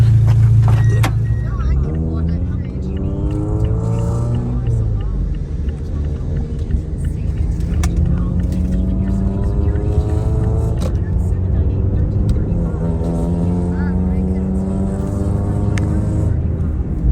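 A right-hand-drive Mazda Miata NB runs and drives, its engine note rising through the gears in repeated sweeps and dropping between shifts, steady and close as if heard from inside the car.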